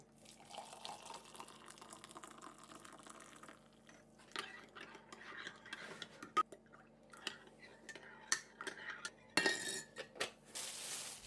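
A spoon clinks and stirs in a coffee cup at home, a scatter of sharp light taps and chinks at irregular intervals, with soft handling noise and a brief faucet-like rush near the end, close and quiet.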